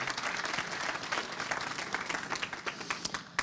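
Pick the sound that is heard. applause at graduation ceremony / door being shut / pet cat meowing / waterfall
applause at graduation ceremony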